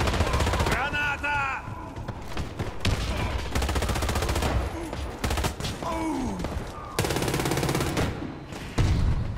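Machine gun fire in the shooter Warface, rapid bursts of gunshots repeating through the stretch with short breaks, loud and close, with someone talking over the shooting.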